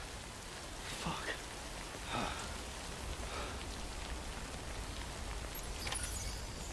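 Rain pours down in the video game Death Stranding, a dense, continuous hiss of drops with a few brief louder swells and splashes rising through the steady wash.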